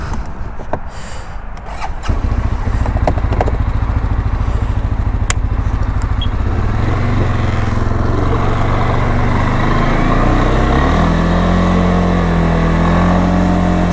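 A 2023 CFMOTO CFORCE 625 ATV engine, whose clutch needs adjusting, starting up and then running loud and close, settling into a steady note before climbing in pitch as it pulls away on a test ride.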